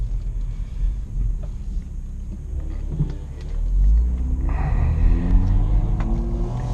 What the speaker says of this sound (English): the first big problem, as you could just hear, is the cold start